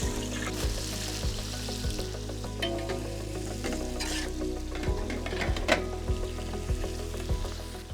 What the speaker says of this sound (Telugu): దీంట్లోనే మనం ఉల్లిపాయ ముక్కలు యాడ్ చేద్దాం.